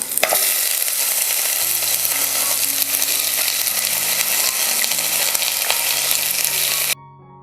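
Sliced onions frying in hot oil with whole spices for a Kerala chicken stew, a loud continuous close sizzle with a few stirring clatters under soft background music, cutting off abruptly near the end.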